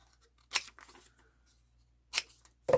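Scissors cutting out a foam stamp, heard as two short crisp snips about a second and a half apart with faint rustling between, close and quiet.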